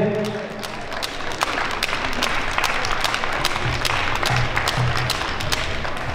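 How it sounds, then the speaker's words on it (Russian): Audience applause at a Latin dance competition, a steady wash of clapping from a crowd in a hall at the Minsk Open Dance Festival, continuing evenly without voices on top. "Аплодисменты."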